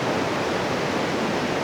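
A mountain stream in Northern Nevada, icy early in the season, flows steadily nearby as a dense, broadband rush of water with no pauses.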